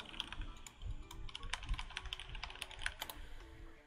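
Rapid, uneven clatter of keys on a computer keyboard, steady and fairly close, with no voices.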